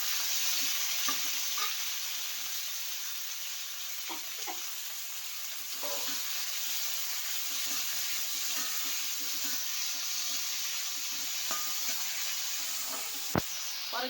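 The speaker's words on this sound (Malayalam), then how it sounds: "കടുക് പൊട്ടി ഇനി കൊച്ചുള്ളിയും വെളുത്തുള്ളിയും ഇടാം." Sliced shallots and garlic fry in hot coconut oil with spluttered mustard seeds, the base for a liver fry. A steady, fairly loud sizzle runs throughout, broken by intermittent spoon scrapes and taps, with one sharp knock near the end.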